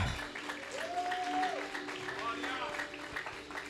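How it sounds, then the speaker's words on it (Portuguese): A Pentecostal church congregation applauding, a broad wash of clapping beneath a prominent amplified voice that carries drawn-out tones. "Se for para mim essas palmas está maravilhoso"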